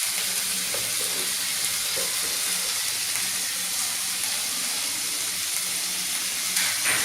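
Banana flower curry ingredients with coriander sauté in a pan, a steady hissing sizzle held close and even for several seconds, with faint stirring underneath and no talking.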